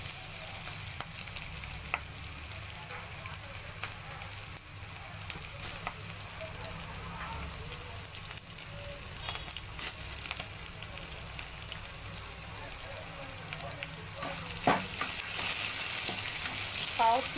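Onions for poha fry in a pan with an even sizzle and scattered clicks of stirring, growing louder and busier near the end.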